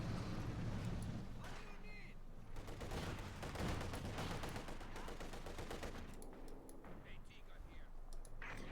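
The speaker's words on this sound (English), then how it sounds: "Guards with the DP light machine guns." Machine-gun fire from Soviet Guards DP light machine guns in the strategy game Company of Heroes 2, heard as crackling bursts under a busy, faint battle mix, with a commentator talking throughout.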